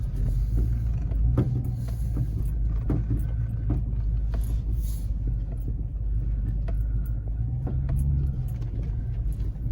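A Chevrolet Tahoe in two-wheel drive on Venom Power Terra Hunter tires drives through snow, a steady low road rumble inside the cabin with occasional small creaks and clicks.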